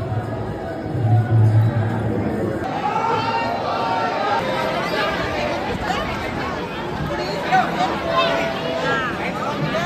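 Pilgrims crowd a temple in Ujjain on New Year's Eve, a dense, continuous babble of many voices close by, with a few nearer voices standing out and a steady murmur underneath.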